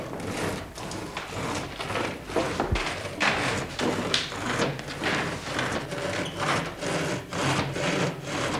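A saw rasps back and forth through wood in the classic magician's sawing trick, steady repeated strokes filling the whole stretch, close and fairly loud with no talk.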